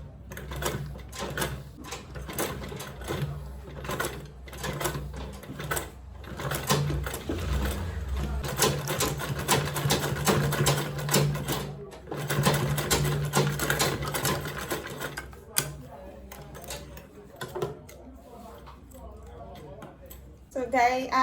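A sewing machine back-stitches a lined, zippered make-up bag. The motor whirs in repeated runs with brief pauses between them, and a voice talks at times.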